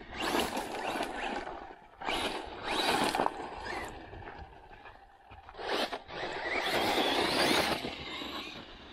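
A Neoxx Dirt Striker 3S RC car driven hard on its stock lipo, with a loud buzzing electric motor whine that rises and falls in bursts as it accelerates, scrapes and turns, heard close with no talk.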